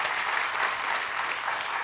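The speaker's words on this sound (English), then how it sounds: "Give my panelists a big round of applause." Audience applause for a panel of speakers at a Mars-themed talk, a dense, steady patter of many hands clapping throughout, fairly close and sustained without a break.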